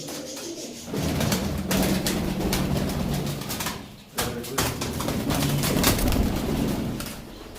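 Homer pigeons let loose from a loft give close, soft cooing mixed with bursts of fluttering and flapping that swell and fade across the clip.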